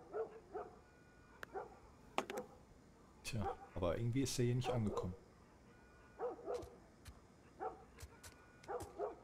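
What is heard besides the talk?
dog barking in The Last of Us video game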